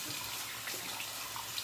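Tap water runs and splashes steadily in a bathroom sink while someone rinses their face during shaving, a close, continuous hissing wash with no talk.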